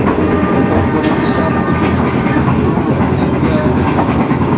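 The Sritanjung passenger train to Surabaya, hauled by a vintage locomotive, rumbles loudly and continuously with a steady rhythmic clatter of wheels on rails.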